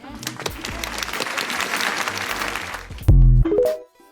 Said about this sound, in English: Now that is worthy of applause.